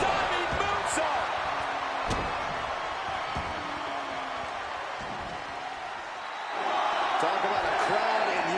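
A wrestler's diving moonsault lands on an opponent and the ring mat with a sharp thud. It rises briefly over a loud, steady arena crowd roar while commentators talk throughout.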